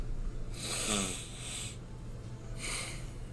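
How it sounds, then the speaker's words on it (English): A few short breathy nasal sniffs with soft hissy bursts, close by and fairly quiet, separated by brief pauses over a steady low background hum. "You've been sniffling over there a bit."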